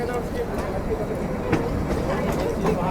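The narrow-gauge Kalka–Shimla toy train pulls out of Kalka station with a steady, close rumble of wheels and carriages and faint rail clicks, while a person talks over the noise.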